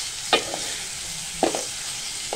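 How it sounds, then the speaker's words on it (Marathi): Masala paste of green chillies sautéing with onions in a pan for chicken keema, a steady soft sizzle with three distinct scrapes of a stirring spoon spaced about a second apart, close and alone. "आपण आता हा मसालाही छानपैकी परतवून घेणार आहे कांद्यामध्ये।"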